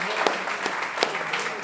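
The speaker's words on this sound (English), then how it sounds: "Let's give a round of applause to everyone who's here." Brief burst of audience applause at a panel discussion on the history of HIV/AIDS, steady and moderately loud with a few sharper claps standing out.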